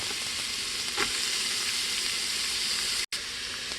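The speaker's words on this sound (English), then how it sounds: "I'm gonna add the onion to it" Chopped onion hitting golden garlic in hot oil inside an Instant Pot, a loud continuous close sizzle with a brief stir clatter and a momentary cut near the end, no talking.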